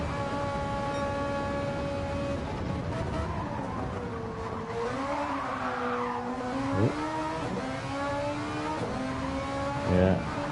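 A Ferrari 250 GT Berlinetta engine in Gran Turismo 7 on the Le Mans circuit, held at a steady drone and then revved sharply as the throttle is kicked, with rising harmonics, a brief tire chirp and continuous, fairly loud engine tone.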